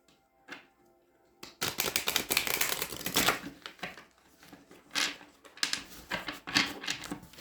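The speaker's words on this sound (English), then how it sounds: "One more butterfly shuffle for Capricorn." Tarot cards are butterfly shuffled close up, bursts of rapid riffling clatter in several quick runs separated by short pauses, fairly quiet with no talk.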